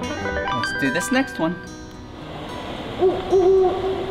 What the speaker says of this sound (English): Yep, the great horned owl.